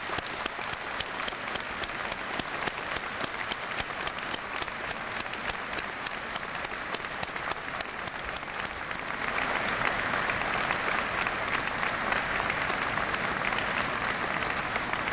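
Sustained applause from a large audience at a university convocation ceremony at the University of Waterloo, steady dense clapping throughout that grows slightly louder and fuller in the second half.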